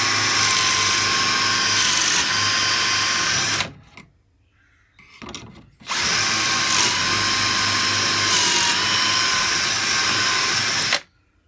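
A power drill boring pocket holes in wood with a pocket-hole jig, a loud steady high whine running for several seconds, stopping briefly, then starting again for another long burst, close by.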